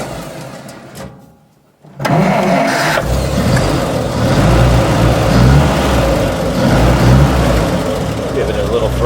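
A 1946 Dodge truck engine cranked by its push button starter on a cold day: a brief starter grind, a near-silent gap, then the engine catches and settles into a loud, rough, continuous idle close by.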